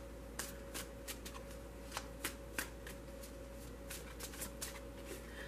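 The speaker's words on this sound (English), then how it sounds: "I'm only going to shuffle it for a moment" A tarot card deck being shuffled briefly by hand: a run of soft, quick riffling bursts and flicks, close and fairly quiet over a faint steady background hum.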